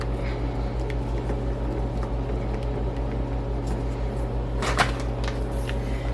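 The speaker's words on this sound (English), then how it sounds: "I'm going to heat this in the microwave real quick" A microwave oven heats a bowl of peanut butter with a constant low hum and droning fan, steady and close. Near the end there are a few faint clicks and one brief knock.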